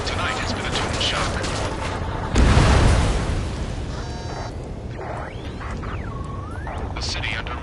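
Gunfire and roaring jets over a city under martial law in the game Ace Combat 7, a dense, loud mechanical din with a heavy burst near the middle and sweeping engine tones later, under continuous speech.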